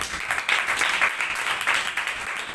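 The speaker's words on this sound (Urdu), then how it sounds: "تالیاں" An audience claps together during a church sermon, a dense, steady round of applause from many hands, fairly loud and close without talking.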